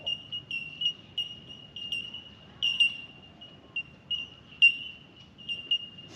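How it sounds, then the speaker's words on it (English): Bellbirds on Lake Macquarie, New South Wales, give repeated piercing high single notes in an irregular series, loud and close over a low steady rumble of an idling outboard engine. "Rhonda could hear the bellbirds call over the outboard engine"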